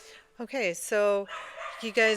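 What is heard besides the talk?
dogs barking in a gun dog kennel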